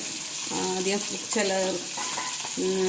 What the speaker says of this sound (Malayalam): ഇപ്പം ഞാൻ രണ്ടാമത് ബാക്കിയുള്ള മീൻ വറുക്കാൻ വെച്ചിട്ടുണ്ട്